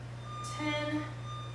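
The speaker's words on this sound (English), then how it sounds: "that beeping, I'm so sorry, y'all. They must be doing some construction or something nearby." Construction vehicle reversing alarm nearby, a few clear electronic beeps in quick succession over a constant low hum, moderately loud.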